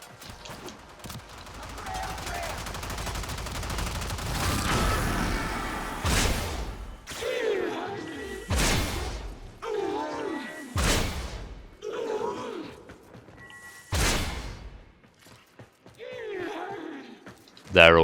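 Heavy greatsword swings cleave through groups of enemies in the video game Warframe, landing as a series of loud, sharp impact bursts amid dense game noise, each strike followed by brief crunching debris.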